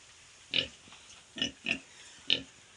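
Large White and Duroc pigs grunting nearby, four short snorting grunts spaced irregularly over a quiet background.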